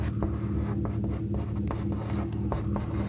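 Chalk or marker strokes on a board during a Class 12 maths lesson on determinants, a steady scratchy writing sound with short repeated strokes and taps, close and alone over a constant low room hum.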